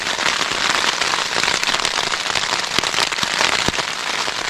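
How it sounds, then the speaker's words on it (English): Heavy rain pours steadily onto a tent pitched in deep winter snow, a dense, continuous hiss of drops with occasional sharper taps, close and loud throughout. "It's raining more heavily all the time. It's pouring."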